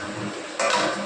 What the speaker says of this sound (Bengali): আবার আমি এটাকে ঢাকা দিয়ে দেবো